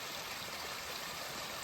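Stream water spills off a ledge into a pool along a hiking trail, a steady broadband rush and hiss with no pauses or voices over a short span.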